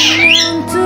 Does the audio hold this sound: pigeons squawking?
yes